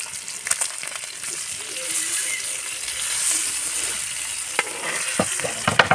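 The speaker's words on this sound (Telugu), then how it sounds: "బాగా ఫ్రై అవుతుంది" Fish sizzles and fries steadily in a hot pan, a continuous hiss with sharper spits and pops toward the end, close and fairly loud with no talking.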